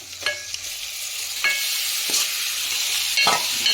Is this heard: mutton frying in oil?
yes